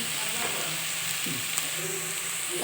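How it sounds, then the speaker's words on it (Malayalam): Onions sautéing in a pan for a quick biryani, a steady moderate sizzle and frying hiss with occasional faint stirring scrapes, no talk. "വഴറ്റി കൊടുക്കാം"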